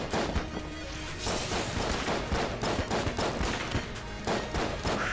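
Gunfire in the bullet-hell video game Enter the Gungeon: dense, continuous volleys of shots and impact cracks for several seconds, loud and busy, with no talking.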